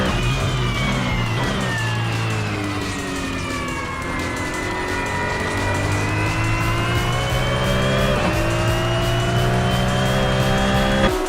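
Onboard a Mazda MX-5 Cup race car at Sydney Motorsport Park, the engine drones loud and close throughout, its pitch rising and falling through gear changes, with other cars nearby and no talking.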